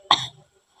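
A man gives one short, sharp cough close by, a single abrupt burst that trails off quickly into silence.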